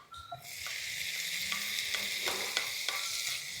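Fenugreek leaves frying in a pan sizzle steadily while a spatula stirs them, its scrapes and taps recurring at a loose, regular pace close by.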